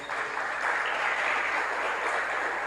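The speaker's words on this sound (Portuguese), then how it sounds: "Aplauda ao Senhor" A congregation claps together during a Portuguese-language mission worship service, a dense, even burst of applause filling the church for a few seconds without speech.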